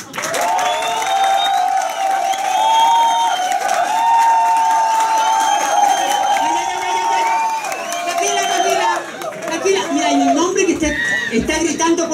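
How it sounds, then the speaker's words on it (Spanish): A lively crowd applauds and cheers for Ebony Angel, with loud sustained clapping, shrieks and whoops, and voices shouting over the noise throughout. "aplauso pero cerrado que sea para Ebony Angel"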